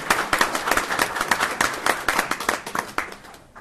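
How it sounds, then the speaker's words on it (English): Applause for a group of kids at a city council meeting in Amarillo, close and lively clapping from a modest crowd with distinct individual claps, tapering off at the end. "I'd like to give them a round of applause"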